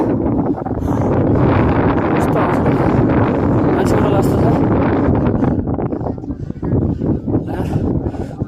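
Strong wind sweeps across a mountain ridge at Sailung in Dolakha, roaring and buffeting the microphone in a loud, continuous rush, with a person speaking briefly over it.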